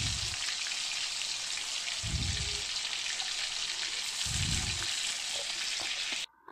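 Shrimp-stuffed pointed gourds fry in a pan of hot oil with a loud, steady hiss, broken by a few low thumps as pieces go in, before cutting off abruptly at the end.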